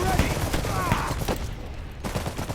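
A bunker gun firing in the video game Iron Harvest, with rapid gunfire bursts and booms mixed with battle noise, heard under someone talking.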